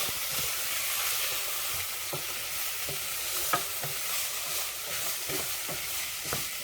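Vegetables for a vegan korma stirred in a hot pan, a constant bright sizzle with light, irregular spatula scrapes and taps repeating throughout, no talking.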